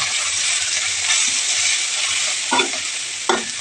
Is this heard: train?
no